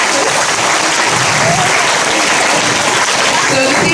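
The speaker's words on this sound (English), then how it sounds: "Give a round of applause for our great actress." Audience at a Ramadan presentation gives a loud, sustained round of applause for an actress, a thick continuous roar of clapping from a crowded room.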